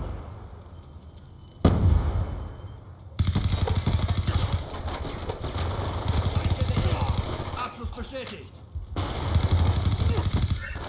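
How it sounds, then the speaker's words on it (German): Gunfire in the Black Ops 2 multiplayer video game: loud, dense bursts of rapid automatic shots with sharp cracks and booms, coming in several bursts with short pauses, with a voice talking underneath. "Ich erstmal voll daneben geschossen."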